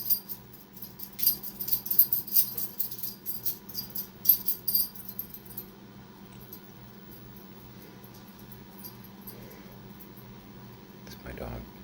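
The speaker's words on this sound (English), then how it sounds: "It's my dog." A dog wheezes and whimpers in short, rough bursts up close, active early and then fading to a quiet background hum near the end.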